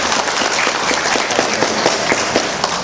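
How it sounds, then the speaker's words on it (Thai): Loud, dense applause from an audience at a Thai education district gathering, a steady wash of clapping sustained from start to finish with no talk. "ขอเสียงปรบมือเป็นการขอบคุณดังๆอีกสักครั้งหนึ่ง"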